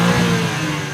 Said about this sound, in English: This is the brand new M4 X-Drive competition, which pairs all-wheel drive with BMW's most powerful straight-six.